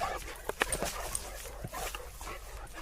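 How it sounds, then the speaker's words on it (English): A Cane Corso and a Labrador play on a walk, giving quiet yips, whimpers and a few sharp little bursts of sound, faint and somewhat distant over soft outdoor noise. "When dogs ramp up with excitement, they can get a bit feisty with each other."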